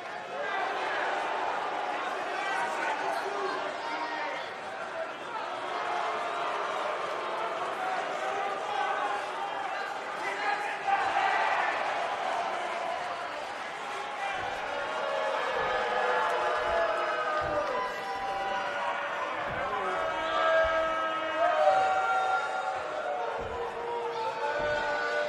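Wrestling arena crowd in WWE 2K19, a steady wash of cheering and chatter from a large audience that swells at moments, with a commentator-style voice talking over it throughout.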